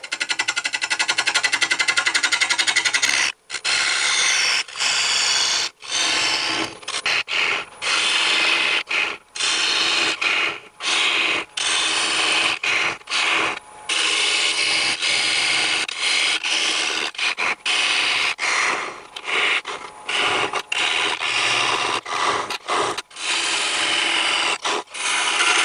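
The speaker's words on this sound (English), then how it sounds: "The 5/8 inch bowl gouge." A 5/8 inch bowl gouge cuts cherry wood on a lathe turning near 700 RPM. The loud, continuous rasping shear carries on throughout, with brief breaks as the tool lifts off the wood.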